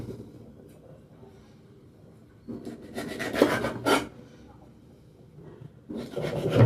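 Knife strokes cutting through a pomfret fish, a few rasping, scraping passes in bursts of a second or so, fairly close and moderately loud, separated by quieter stretches with faint background noise.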